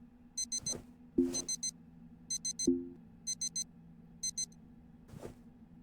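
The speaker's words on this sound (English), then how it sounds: "my proximity alarm would go off." A spaceship proximity alarm sounds in the space salvage game Ostranauts: repeated bursts of high electronic beeps in small clusters, mixed with a few dull low thuds and a steady low hum.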